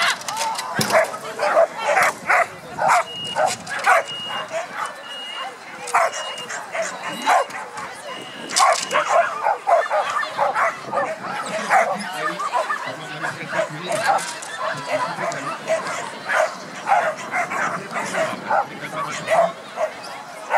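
Repeated dog barks and yips at a dog agility competition, over a busy, noisy outdoor background with a voice talking in French over a loudspeaker throughout.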